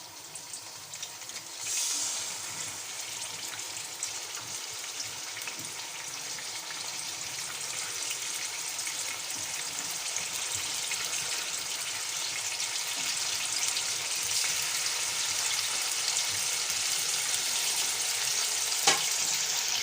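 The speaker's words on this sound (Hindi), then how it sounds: "अब हम इसमें रखेंगे जो हमने मैरिनेट करके रखा था चिकन।" Marinated chicken pieces frying in hot oil for pulao and kabab, a steady loud sizzle and crackle that continues throughout with no talk.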